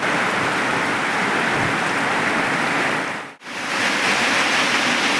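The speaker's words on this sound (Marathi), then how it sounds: "चांगलाच पाऊस आलाय बरं का यार" Heavy rain pours down as a loud, dense, steady roar, broken once by a brief dropout.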